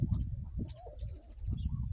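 Grey pigeons coo softly amid low rumbling and scattered chirps, with a fluttering sense of birds taking off and climbing upward nearby.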